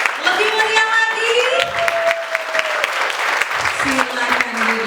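Applause from a church congregation at a joint Christmas service for an orphanage and a children's church in Papua, a steady wash of clapping under a voice with sung or sustained tones.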